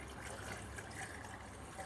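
Coolant pours steadily into a 2008 Chevrolet Cobalt LS engine in a soft continuous stream, gurgling faintly as it flows down, quiet and close with no talking.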